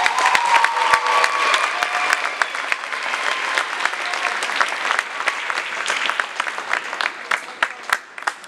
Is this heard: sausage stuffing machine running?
no